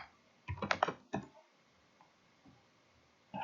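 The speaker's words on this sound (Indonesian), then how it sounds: "kemudian saya ketikkan Gratika di sini" A computer keyboard is typed on in a quiet room, two quick clusters of clicking keystrokes near the start, then sparse faint taps and a final keystroke at the end.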